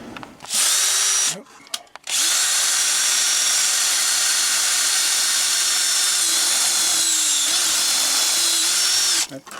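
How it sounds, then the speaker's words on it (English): A power drill drills a hole during a water heater expansion tank replacement, whirring loudly and steadily after a brief false start, running continuously for several seconds before stopping. "Now he's got to drill a hole."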